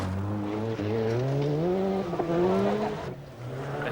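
Rally cars race through a forest stage in the 1990 Cartel Rally, a Toyota among them. Engines rev and shift up loudly with rising and falling pitch as the cars charge past.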